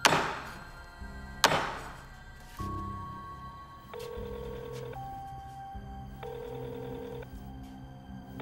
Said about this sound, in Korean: 계속 메시지 오는 것 같은데?